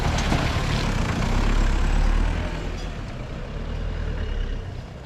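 A 4x4 vehicle on a street in Angola, engine rumbling loudly and steadily as it is put in gear and slowly maneuvered, with no talk over it.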